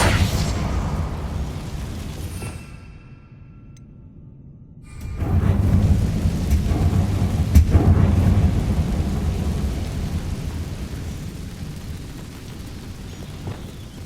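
A Confringo spell blast in Hogwarts Legacy lands as a deep rumbling boom, followed by a brief near-silent gap and then a long, heavy roar that slowly fades out.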